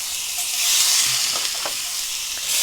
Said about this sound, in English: you're going to add your sausages